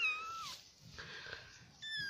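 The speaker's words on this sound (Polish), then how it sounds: "Słyszycie teraz, jak miauczy." A black-and-white fluffy kitten meows close by, two thin rising-and-falling cries at the start and end with a quieter stretch between.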